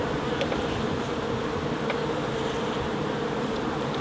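A dense, steady buzz of many honey bees inside a hive of six to seven frames fills the air, close and continuous, with no voices.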